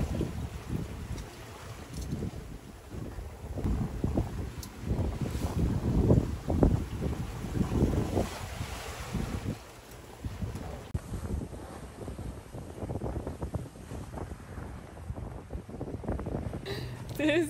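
Gusty wind buffets the microphone over sloshing, choppy open-sea water around a sailboat, steady and rough throughout, with occasional voices underneath.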